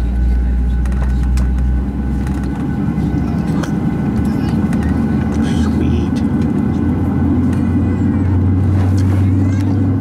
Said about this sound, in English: Engine's roaring up.